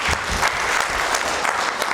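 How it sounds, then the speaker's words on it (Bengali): An audience applauding at a Bengali stage performance, dense, steady clapping close up that carries through the whole moment without pause. "সবার জন্য হাততালি"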